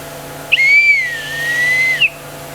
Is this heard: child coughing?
no